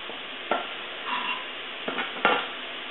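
Sausage frying with onions in a pan for queso fundido, a low steady sizzle broken by a few sharp scraping strokes as the meat is broken up and stirred.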